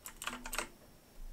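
A password tapped out on a computer keyboard, a quick run of about six soft, close keystrokes followed by a pause and one more tap at the end.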